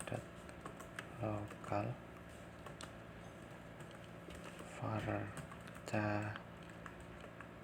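Quick runs of computer keyboard keystrokes click and patter at close range while configuring a DNS server, coming in short bursts between pauses, with someone speaking at intervals over them.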